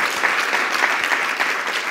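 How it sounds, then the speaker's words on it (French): An audience at an awards ceremony breaks into applause, with dense, steady clapping filling the hall at close range and no voices over it for the whole stretch. "Je voudrais qu'on applaudisse la salle aussi, à nouveau"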